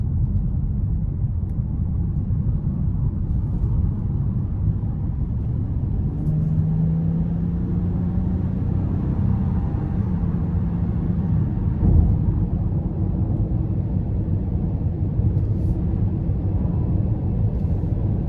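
A 2024 Honda Odyssey Elite minivan with a 3.5 V6 pulls steadily onto an interstate under moderate throttle, heard from inside the cabin as a continuous low engine and road rumble with no voices.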